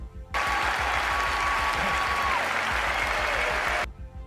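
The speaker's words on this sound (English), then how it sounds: "I can hear the carbonation from here." Close fizzing crackle of carbonation in a freshly poured Founders Underground Mountain Brown ale, a dense steady hiss like tiny clapping that starts abruptly and cuts off, with a brief tone beneath.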